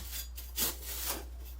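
Completely dry, freeze-dried tomato puree crumbles and scrapes in short raspy rubbing bursts, faint and close, over a low steady hum with no talking.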